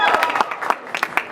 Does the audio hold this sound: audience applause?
yes